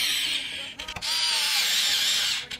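A screw is driven into a Cooler Master Sneaker X mini-ITX PC case during an AM5 gaming build, making two close, high buzzing bursts from a powered screwdriver separated by a short pause.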